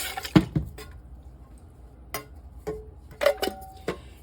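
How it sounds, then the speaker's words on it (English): Whole peeled tomatoes from a can tipped into a cooking pot for homemade creamy tomato soup, a few wet plops and clunks followed by scattered light clinks of metal and cookware, close and quiet with gaps of silence. "now I have 1 can of whole peeled tomatoes. I'm going to go ahead and add that"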